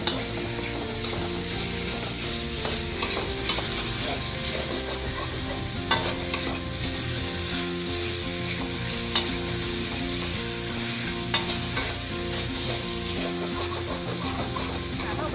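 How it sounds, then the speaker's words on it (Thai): Pork stir-fried in a pan for sago dumplings, a continuous loud sizzle broken by repeated scraping strokes of a spatula over about fifteen seconds, with no talking. "ใส่หมูลงไปพ ัดคลุกเข้าให้เข้ากัน"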